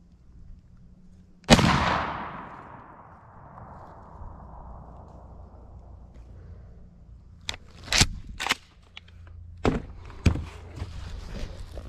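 A Mossberg Maverick 88 shotgun fires a single rifled slug at a range while being sighted in, one loud sharp blast that rings out and decays for several seconds, followed by scattered clicks and knocks of handling.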